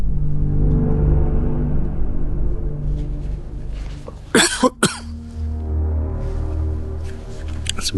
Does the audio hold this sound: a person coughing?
yes